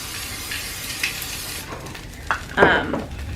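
Hash browns fry in a non-stick pan with a steady soft sizzle, punctuated by a few scraping stirs and a louder utensil scrape near the end.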